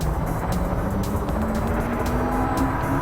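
Spaceship engines engage in Elite Dangerous, a loud steady low rumble with a faintly rising hum that holds throughout, with no voices.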